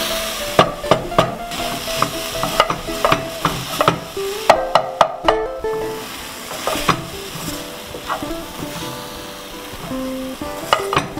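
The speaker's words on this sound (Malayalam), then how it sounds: "ഇനി ചുക്ക്, ജീരകം, ഏലക്കായ പൊടിച്ച പൊടി അതിനകത്തേക്ക് മിക്സ് ചെയ്യണം." A spoon scrapes and stirs a cooking kozhukatta filling of jaggery and coconut with dry ginger, cumin and cardamom powder, giving loud, steady, rhythmic scraping strokes with a faint sizzle beneath, and no voices.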